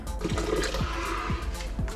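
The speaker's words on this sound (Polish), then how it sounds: "Do pojemnika miksującego wleć 1000 g gorącej wody." Hot water, 1000 g of it, pouring into the mixing bowl of a Monsieur Cuisine Connect kitchen machine, a steady liquid rush with gurgling and sloshing throughout, fairly loud and close.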